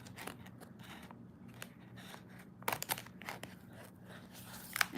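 Scissors snipping wire ribbon during junk journal crafting, a series of faint sharp clicks and cuts spaced irregularly, with a couple of louder snips near the end, close and quiet with no talking.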